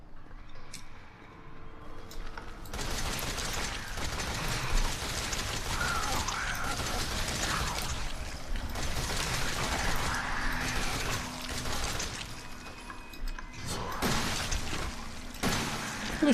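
Automatic machine gun fire in the horror game Resident Evil 7, sounding as dense, continuous mechanical rattling bursts that run almost without pause from about three seconds on, loud and busy with clanking game noise.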